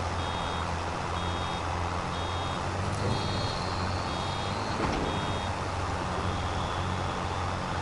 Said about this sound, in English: Hear the beeping and get all excited.